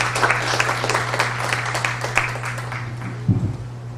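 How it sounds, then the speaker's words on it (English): An audience at a conference on innovation programs in Southeast Asia applauds, a dense, moderately loud patter of many hands clapping over a steady low hum, with a brief low thump near the end. "Ladies and gentlemen, a round of applause for the director of the iBoP Asia program"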